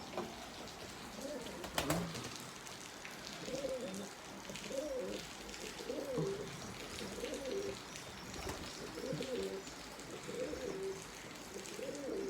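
Pigeons coo in a steady repeating pattern, soft low calls recurring every second or so over a constant outdoor hiss, with no talking.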